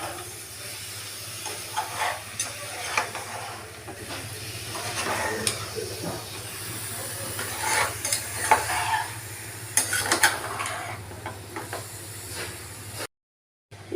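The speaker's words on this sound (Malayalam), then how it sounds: "നമ്മൾ നേരത്തെ മാഗ്നേറ്റ് ചെയ്ത ഈ ഇറച്ചി ഇതിലേക്ക് ഇടുക നന്നായി ഇളക്കുക" Marinated chicken pieces tipped into fried onions in a pan for a roasted-coconut chicken curry, then stirred steadily, giving a continuous sizzle and hiss with repeated scraping strokes, close and alone, no talk.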